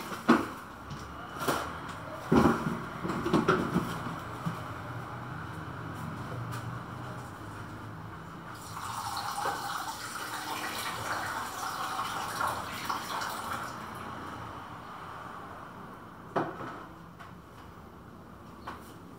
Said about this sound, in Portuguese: Então eu vou botar 4 de água